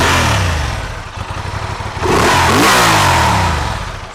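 Honda XL750 Transalp motorcycle on its standard exhaust revs loudly up close, a throaty engine note that dips slightly then climbs in a sweeping rise before settling, with no talking.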